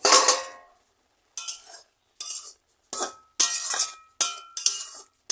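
A metal lid lifted off a cooking pot, followed by a series of bright clanks and clinks of metal cookware, about seven sharp close hits with short rings and gaps of silence between them.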